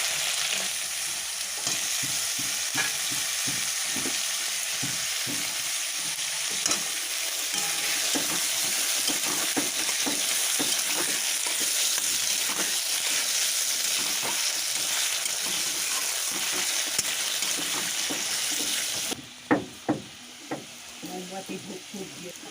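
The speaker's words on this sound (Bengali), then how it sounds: "আলুগুলো দিয়ে বেশ কিছুক্ষণ ভেজে নেব" Thinly sliced potatoes fry in a wok, giving a loud, continuous sizzle with frequent spatula scrapes and stirring knocks throughout, the hiss easing at the end while a few sharp clinks stand out.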